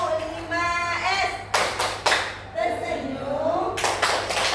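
A group performs the Tepuk 5S rhythmic clapping routine at a school teachers' session: chanted voices in unison punctuated by bursts of clapping in a patterned rhythm, fairly close and moderately loud.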